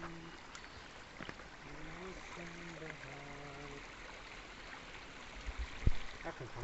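Rainwater runs down a road damaged by a landslide, a steady low wash and trickle heard from nearby while someone talks over it.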